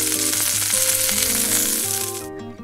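Chicken pieces sear skin-side down in a frying pan over medium heat for an African-style chicken muamba, with a bright continuous sizzle under background music that cuts off abruptly near the end.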